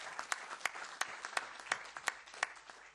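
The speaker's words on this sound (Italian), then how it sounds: "vorrei, se possibile, un applauso" Audience at a Venetian nationalist party meeting claps in a quiet, sparse and fairly even rhythm, individual claps standing out clearly at a distance rather than forming a dense roar.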